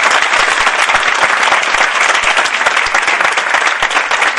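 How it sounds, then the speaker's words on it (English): Loud, sustained clapping from a workshop audience at a Montessori training session, dense and even from start to finish with no talk over it. "Please give her a big clap"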